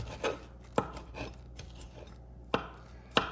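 Knife blade chopping chives with a rubber band still around the bunch, a few sharp distinct chops spaced irregularly, close and fairly quiet, with no talking.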